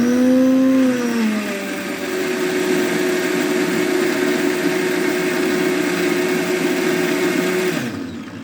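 An electric blender grinds garlic in one continuous loud whir, its motor pitch dropping as it settles into a steady drone, then cutting off at the end.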